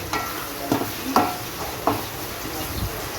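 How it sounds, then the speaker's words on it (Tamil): Tomato and mint paste frying in a pan for fish gravy, a soft steady sizzle broken by a few stirring scrapes at irregular intervals, with no voices. "நல்லா ஃப்ரை பண்ணிக்கோங்க."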